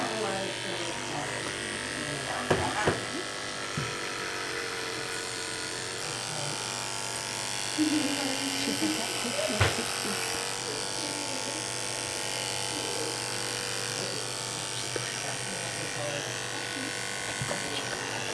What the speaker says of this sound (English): Once we have enough lube, we can actually start clipping, and that's just so we can protect the inside of the laceration.